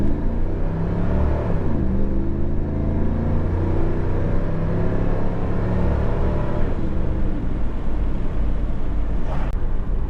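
A 1993 Chevy Camaro Z28 with low oil pressure cruises steadily, its engine a continuous loud rumble with shifting revs throughout.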